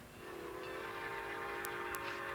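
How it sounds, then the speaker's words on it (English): A train whistle from the approaching Northern Star passenger train at a railway station, sounding as a steady tonal blast over low rumbling rail noise, with two brief high bursts near the end. "Where's that whistle coming from?"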